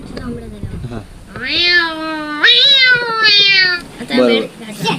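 A voice imitates a dog's yelping, with long, high, wavering whines up close that sound almost like meowing.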